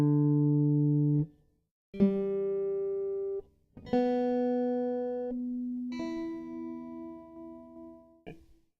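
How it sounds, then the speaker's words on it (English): An electric guitar is tuned string by string against an electronic tuner: five plucked notes, each left to ring one to three seconds with short gaps between them, clear and close, with no talking. "First thing we do is tune it up. I use an electric tuner"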